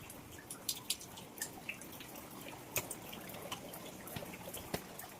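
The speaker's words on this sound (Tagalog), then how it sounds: "lumalakas na naman ang ulan" Water drips steadily indoors during a typhoon with heavy rain, flooding and a power outage, making faint, irregular small drips over a soft background hiss.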